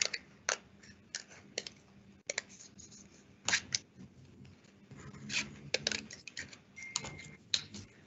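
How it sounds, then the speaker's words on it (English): Large scissors cut through paper during an artist's museum demonstration, with a series of quiet, irregular snips and rustles close by, separated by short pauses. "I just follow the scissors. I just start to cut"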